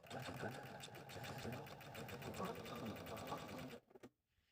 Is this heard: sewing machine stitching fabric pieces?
yes